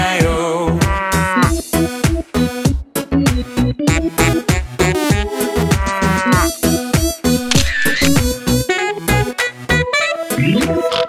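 Cow moos sung within the Old MacDonald nursery song, a voice imitating the cow's call in rhythmic, musical phrases over a steady accompaniment, loud and continuous throughout.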